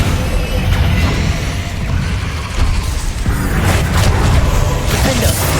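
A Bombarda spell explosion in Hogwarts Legacy, a loud booming blast with whooshing debris, set amid ongoing spell-combat noise.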